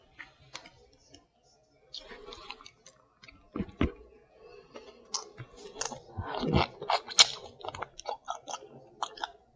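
Close, wet chewing and crunching of lobster claw meat, irregular bites and mouth clicks that grow busier toward the end, with no speech.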